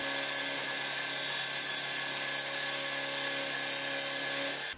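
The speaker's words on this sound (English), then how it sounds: "I'll take it back to the mill and widen that V channel just a little bit." A milling machine cutting to widen a V channel in metal gives a continuous high whining drone with steady tonal ringing, close and even throughout, stopping abruptly at the end.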